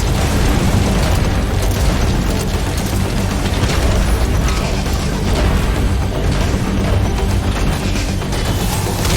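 Missiles bursting after being shot down in a stealth action video game, a dense, continuous roar of overlapping explosions and booms filling the whole stretch loudly, with no clear pauses between blasts.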